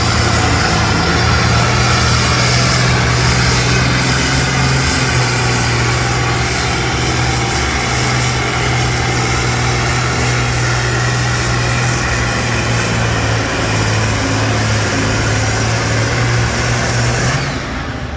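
A vintage Deutz tractor engine at a county fair tractor pull roars steadily at full power for the whole stretch, with a deep, constant drone and a smoky, straining tone, near and without pause.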